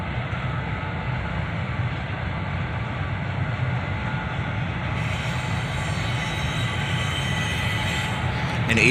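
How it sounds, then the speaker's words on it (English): CSX freight train led by an ET44AH and an ES44DC locomotive, a steady loud rumble of engines and rolling cars passing close by, continuous throughout and swelling slightly at the end. "An ET44AH followed by an ES44DC lead this train"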